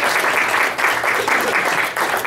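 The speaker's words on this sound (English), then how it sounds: "I'd like to have another round of applause for all of our speakers who have shared their time with us." A crowd at a community educational forum on West Virginia Amendment 1 claps for its speakers, a brief, loud, continuous round of applause that fills the room.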